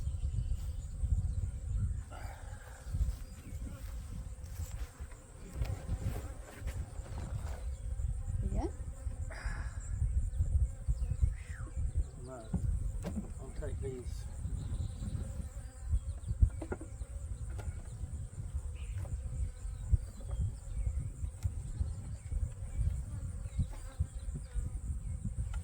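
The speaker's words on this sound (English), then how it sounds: "One bee coming out right there, it won't go nowhere." Honey bees buzz around a hive on a farm being winterized, a steady insect drone close by alongside low rumbling background noise and scattered handling sounds, with no talk.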